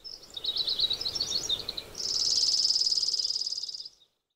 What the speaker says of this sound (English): and it is the sound of a sparrow.